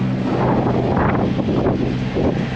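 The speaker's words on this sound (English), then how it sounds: "It's windy." Steady, loud wind buffeting the microphone aboard a sailboat on the Intracoastal Waterway, a continuous broadband roar with gusty swells and a low rumble underneath, no voices.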